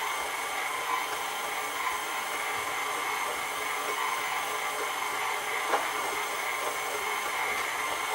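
Stand mixer working flour for pizza dough at a low speed, a steady whirring motor drone throughout with a faint tick of the bowl or beater near the end.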